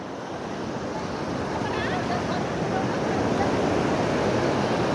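Ocean surf at Jagannath Puri beach rolls in as a continuous broadband roar, with wind buffeting the microphone and the wash swelling slightly louder toward the end.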